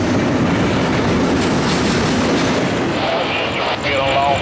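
A three-mile-long freight train rumbling past close by in Hialeah, Florida, loud continuous clatter of wheels on rails with a faint squeal near the end.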